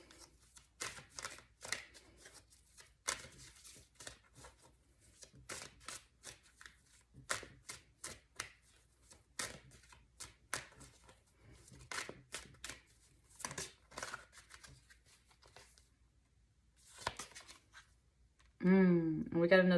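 Tarot cards shuffled and drawn during an end-of-year reading: a string of short, crisp papery riffles and flicks in uneven bursts, fairly close and quiet, ending in a louder stretch of handling or voice.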